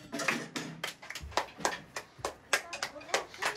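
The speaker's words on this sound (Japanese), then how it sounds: "じゃあみんなプップルに拍手" Children in a drum class clap their hands in uneven, close bursts with scattered single claps, and voices can be heard around them.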